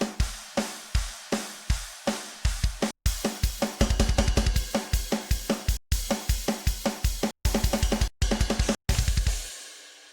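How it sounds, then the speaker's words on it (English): An old school death metal drum kit mix plays back alone, with fast, punchy kick and snare hits in driving bursts broken by brief silent stops, loud and in-your-face with bright cymbals. "And drums on their own are going to sound like this."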